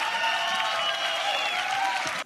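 A volleyball crowd at the Red Rock Open cheering and clapping in one sustained roar, loud and continuous before cutting off abruptly at the end.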